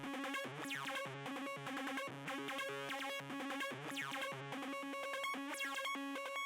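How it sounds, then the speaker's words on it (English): Chemical bassline synth preset in Xenology plays a simple pattern that jumps between octaves, bright buzzy bass notes in a steady repeating rhythm, alone and fairly quiet. "First sound is this chemical bassline preset in Xenology"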